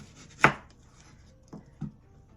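A knife cutting through an apple on a cutting board, one sharp loud chop followed by two softer taps, close and alone.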